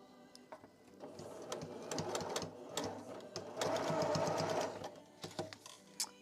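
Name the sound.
sewing machine stitching a plushie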